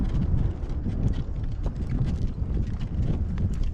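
A horse trotting across a field on a blustery, windy day, with steady hoofbeats running throughout beneath loud, continuous wind buffeting the microphone.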